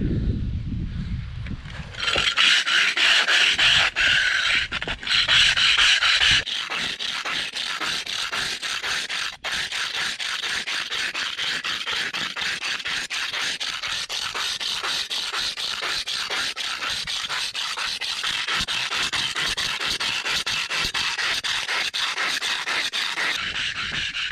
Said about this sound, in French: Et je vais venir en fait frotter pour égaliser le plus possible, enlever les irrégularités.